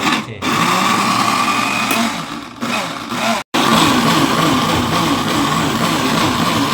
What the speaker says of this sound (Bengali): পেঁয়াজ আদা রসুন কাঁচামরিচ সবগুলো একসাথে ব্লেন্ডার করা শেষ